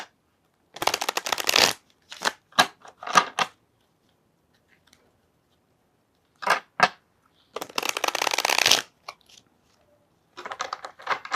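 Tarot cards shuffled by hand, several separate bursts of crisp riffling and flicking close up, with quiet pauses between them and no talk.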